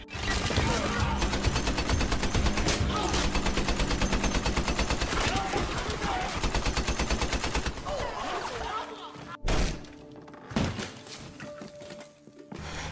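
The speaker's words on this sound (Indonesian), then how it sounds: "Tentara Korea terpecah menjadi dua kubu dan saling menembak." Rapid bursts of gunfire as soldiers in a film shoot at each other, dense and loud for about nine seconds before dropping to scattered shots and quieter sounds.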